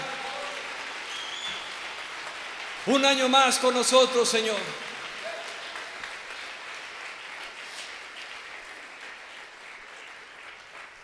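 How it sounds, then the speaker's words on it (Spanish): A congregation at an evening praise and worship service applauds steadily all the way through, a dense, even wash of clapping. A voice speaks over it in the middle. "Libres, dale ese aplauso más fuerte."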